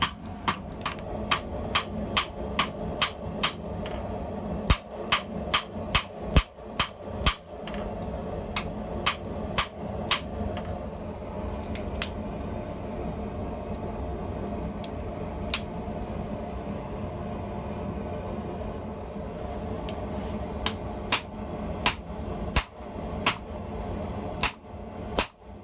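Ringing hammer blows on hot D2 steel over a shaking anvil at a forge, struck in quick bursts of sharp metallic clangs with pauses between groups, loud and close over a low background rumble.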